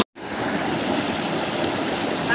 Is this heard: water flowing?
yes